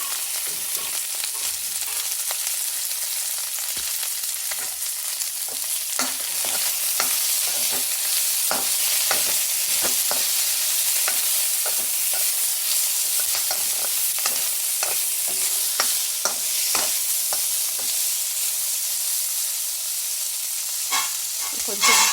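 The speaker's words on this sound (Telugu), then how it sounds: "ఉల్లిపాయలు, పచ్చిమిరపకాయలు, కరివేపాకు వేసుకున్నాను." Onions, green chillies and curry leaves fry in hot oil with a steady, loud sizzle, while a spoon stirs and scrapes now and then throughout, and no one speaks.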